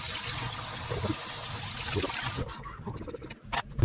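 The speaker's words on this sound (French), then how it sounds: "L'eau bien froide. On les rince." Salted fish fillets rinsed under cold running tap water, a steady broadband splash for about two and a half seconds, then the flow drops to scattered drips and handling clatter.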